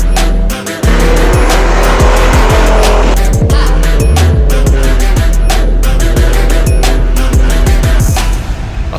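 A powerful car drifts on a small track, its engine roaring loud and close while the tires squeal and skid in repeated long bursts, with brief pauses as it shifts.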